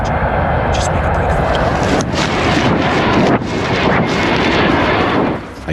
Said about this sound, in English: Then help came in the form of an American transport plane.